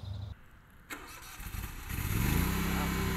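An autonomous lawn mower starts up, its engine catching after a short click and rising into a steady, loud running drone.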